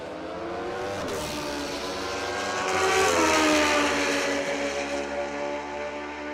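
A Buell motorcycle makes a drag racing run, its engine screaming with a rising and then falling pitch as it passes, loud and continuous across open track.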